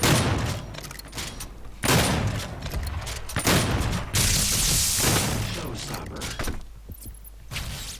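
Machine gun fire in DOOM multiplayer comes in loud, dense bursts broken by short pauses, mixed with game noise and mechanical clatter.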